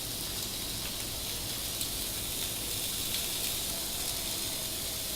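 Bacon frying in a pan, a steady, even sizzle and hiss that stays constant and moderately quiet throughout, with no talk.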